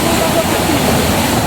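A mountain waterfall roars in a loud, steady, broadband rush of falling water, heard up close without pause.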